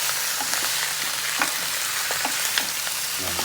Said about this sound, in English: I'm going to add these neck bones in it. Like that. And just stir them up.